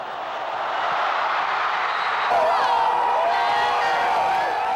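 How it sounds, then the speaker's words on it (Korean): American supporters' crowd cheering after a goal at a World Cup football match in Qatar, a broad roar of many voices swelling and sustained, with whoops rising above it. "미국 측 응원단에서 환호가 터져나왔다"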